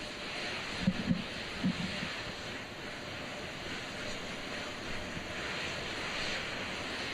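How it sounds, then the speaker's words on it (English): Auxiliary power units on the Artemis 2 SLS rocket, high-speed turbines, run with a steady distant broadband roar and hiss, a few faint thumps early on, and no speech. "Those are auxiliary power units, high-speed turbines which provide pressure to hydraulic pumps that steer the RS-25 engines."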